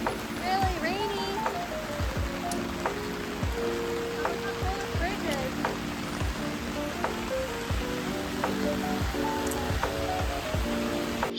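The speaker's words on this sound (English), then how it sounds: "Really rainy." Steady rain hisses over a city street in China with pedestrian walkways above the intersections, a dense continuous wash with scattered drips and splashes, while passersby talk faintly in the background.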